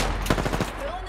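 A Kraber sniper rifle in Apex Legends fires one heavy, booming shot, followed by a rattle of further gunfire, all close and loud over game ambience.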